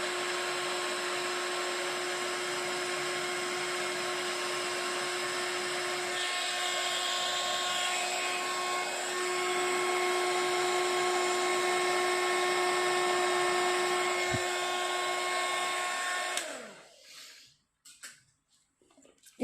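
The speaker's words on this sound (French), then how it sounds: "Et je vais chauffer ça avec mon heat gun." A heat gun warming craft card for scrapbooking, a steady, close whine with a faint motor hum that runs unbroken and then cuts off near the end, leaving quiet handling noises.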